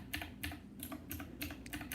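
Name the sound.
mechanical keys clicking on Divoom Ditoo pixel art speaker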